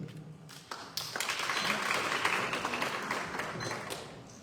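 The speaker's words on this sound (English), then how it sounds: "Thanks for the applause" Audience at a Democratic primary forum breaks into applause after a brief stretch of quiet, the clapping rising suddenly and holding as a fairly soft, distant wash of many hands.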